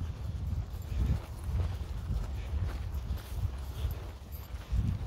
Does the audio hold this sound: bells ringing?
no